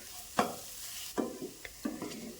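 Ground coriander, garam masala and other spices are worked into a cooking potato vegetable mixture for a flour-based snack filling; three distinct scraping stir strokes, close and fairly quiet, with nothing else around them.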